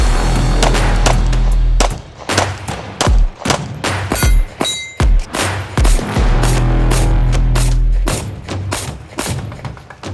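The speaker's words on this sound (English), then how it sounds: "this time we got 20 rounds of Remington UMC 115 grain loaded up." A Lone Wolf Dusk 19 pistol fires Remington UMC 115 grain rounds on a shooting range. Sharp, loud shots come in quick bursts and irregular strings, with brief pauses between them and no talking.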